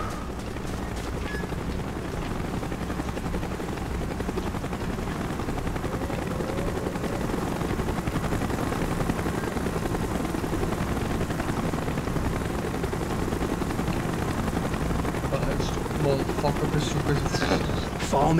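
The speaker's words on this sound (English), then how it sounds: "Chopper's inbound." Helicopter rotor thrum in the Call of Duty Black Ops video game, a steady loud drone filling the whole stretch, with radio-style voices talking over it and scattered game effects near the end.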